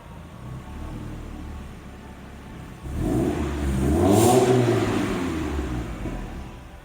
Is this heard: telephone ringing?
no